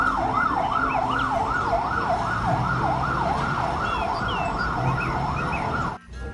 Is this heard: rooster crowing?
no